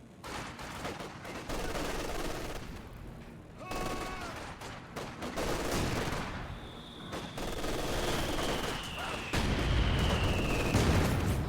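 Bursts of gunfire and distant booms crackle through a busy, noisy Company of Heroes 2 battle scene, with a faint whistling tone passing overhead.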